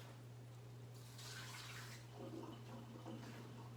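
Excess water poured from a measuring cup, a short gushing splash about a second long over a low steady hum, followed by faint trickling.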